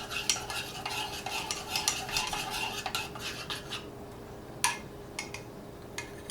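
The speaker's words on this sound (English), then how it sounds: "just go ahead and gently stir the espresso to make sure that the chocolate is all melted in there" A spoon gently stirs espresso with melted chopped chocolate in a cup for a peppermint mocha, a steady close clinking and scraping for several seconds, then a few isolated taps.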